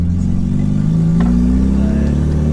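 A turbocharged 1999 Mitsubishi Eclipse with all-wheel drive, running a stock Evo 9 turbo at 27 PSI, accelerates hard, its engine droning loud and steady from inside the car with a faint clatter underneath.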